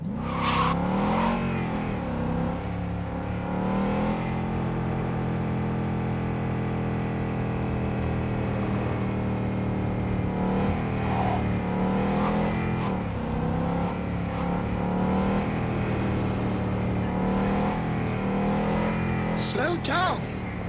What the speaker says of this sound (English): Driving.